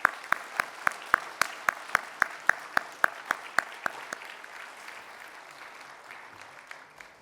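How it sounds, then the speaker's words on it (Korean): A church congregation at an elder ordination ceremony claps in unison: a dozen loud, evenly spaced rhythmic claps that then dissolve into softer, scattered applause fading away, no talk over it. "다시 한번 우리 축하하는 박수로"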